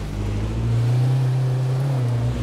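Car engines from pursuing vehicles in the survival game H1Z1 drone with a steady, loud low rumble that swells slightly midway and holds without a break.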